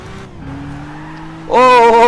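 A race car engine in Gran Turismo holds a steady drone, then jumps to a loud, buzzing high-rev note as it hits the limiter, with strong layered harmonics and some tire noise.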